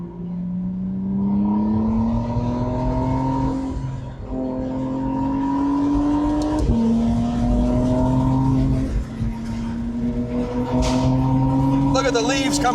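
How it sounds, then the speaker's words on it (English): A McLaren Artura Spider twin-turbo hybrid sports car engine drones and rises steadily in pitch as it accelerates, with brief dips between pulls and some talking underneath. "You got the twin turbo engine, and you got the battery power."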